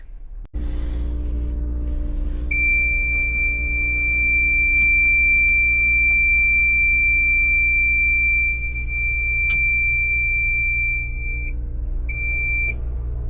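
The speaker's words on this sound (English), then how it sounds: "it's gonna make some really bad beeping noises" A Cat 966K wheel loader's steady electronic warning tone beeps loudly over the low rumble of its idling engine, pausing briefly near the end before resuming.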